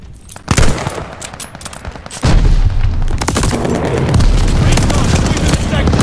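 Gunfire in the video game Call of Duty Vanguard, including sniper rifle shots, with a sharp loud report followed by sustained dense battle noise and booms, the player's voice partly over it.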